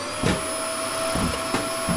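A suction vacuum in a video game pulls things into its clogged tank, giving a steady whirring hum with a high whine, broken by a few brief louder gulps as objects are drawn in.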